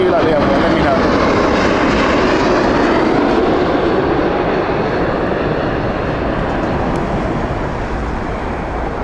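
An eight-year-old Air Canada Boeing 787 jet roars steadily at Heathrow Airport, a loud, continuous broadband engine rumble that shifts slowly in tone, with a voice talking over it.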